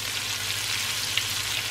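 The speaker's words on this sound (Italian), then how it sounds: "Anche perché non vedi neanche cosa sta friggendo" Falafel frying in oil in a pan gives a steady, close crackling sizzle that hisses evenly throughout, with no talk.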